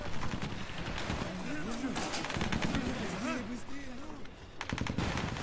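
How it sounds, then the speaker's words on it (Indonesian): Gunfire from Nazi soldiers in a war film battle, dense rapid machine-gun bursts running continuously and loudly, mixed with other combat noise and a tonal warbling layer. "suara tembakan sudah terdengar dari tentara Nazi yang mencoba membunuh regu senapan mesin yang baru tiba"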